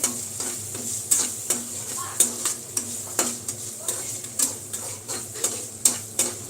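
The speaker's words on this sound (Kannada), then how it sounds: "ಇಲ್ಲಿ ಟೊಮೊಟೊ ಎಲ್ಲ ಫ್ರೈ ಆಗ್ತೈತೆ" Tomatoes fry in a pan while a spatula stirs them, with a soft sizzle underneath and regular sharp taps of the utensil against the pan, close and fairly loud.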